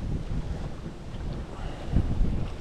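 Wind blows across a fishing boat out on the water, a low, gusty rumble buffeting the microphone and swelling slightly toward the end.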